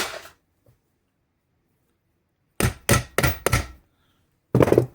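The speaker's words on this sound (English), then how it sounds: "Let's get my hammer out right here. I'm going to put it in a little crease there." A hammer works a metal load bar casing apart, four sharp metallic strikes in quick succession followed by another after a pause, loud and close with silence between.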